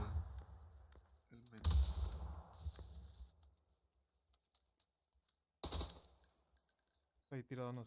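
Two sharp bursts of video game gunfire ring out amid quiet game ambience, followed by a fast rattling volley at the end.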